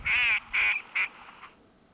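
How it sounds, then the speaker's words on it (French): Northern shoveler duck on Lake Méziaa giving three nasal quacks, two longer then one short, close and clear over a quiet background. "Le canard souché est un deuxième canard de surface."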